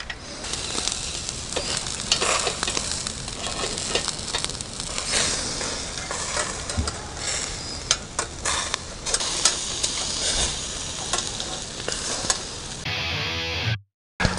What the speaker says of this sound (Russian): Есть только жар, который жарит шашлык